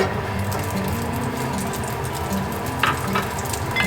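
Chinese sausage fries in a pan, giving a steady close sizzle with light crackling and a few soft scraping stirs toward the end.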